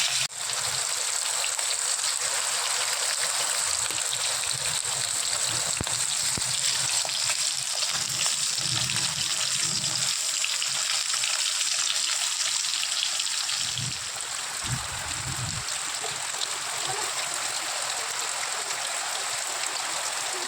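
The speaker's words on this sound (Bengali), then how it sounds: "তেল গরম হওয়ার পরে এই যে মাছটা আমি ছেড়ে দিলাম" Fish slid into hot mustard oil gives a steady, even hiss of frying that runs without a break, with faint low thuds of the pan underneath.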